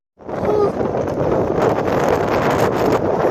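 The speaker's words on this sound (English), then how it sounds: "It's so windy." Strong wind roars and buffets the microphone continuously on an Appalachian Trail hike, a harsh, gusty rush close up with no voices.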